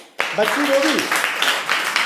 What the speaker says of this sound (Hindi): इस बच्चे के लिए ताली बजा दो थोड़ा।